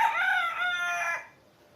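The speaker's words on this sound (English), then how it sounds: "these chickens are having a heyday with they're loud today" A rooster crows once among loud chickens, a single strong, clear cock-a-doodle-doo lasting about a second before it drops away into quiet.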